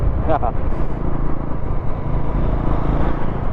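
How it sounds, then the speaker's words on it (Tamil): A Bajaj Pulsar NS400Z motorcycle runs on the road, its engine and silencer giving a steady low drone heard from the rider's seat under a helmet, with a rider talking over it. "இந்த ஹெல்மெட்லேயே பார்த்தீங்கன்னா அந்த இன்ஜின் மோட்ரு சைலன்சர் அந்த சவுண்டு வந்து கேட்குது."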